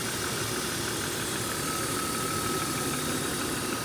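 The engine of a 1998 BMW 528i runs steadily at idle, a dense continuous mechanical hum with a faint whine, close and unbroken throughout with no talk.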